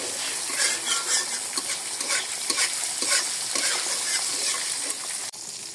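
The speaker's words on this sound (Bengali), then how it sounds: "এই ফ্রাইটা কিন্তু মৃদু আঁচে ভাজতে হবে, না হলে মাছটা পুড়ে যাওয়ার সম্ভাবনা থাকে।" Fish fry sizzles steadily in a pan over gentle heat, a dense, bright crackle of hot oil with small spits and bursts throughout, close and loud with no voices.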